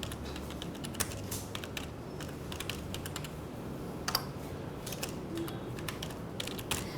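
Keystrokes on a computer keyboard while typing text into WordPad, a steady run of light clicks with a few sharper taps, close and fairly quiet over low room noise, no talking.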